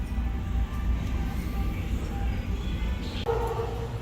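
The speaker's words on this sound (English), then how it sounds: "That dog scared the crap out of me." A dog in a pet store barks and yips amid the busy indoor hubbub of a dog training class, with short bursts rising over steady background noise and a voice talking nearby.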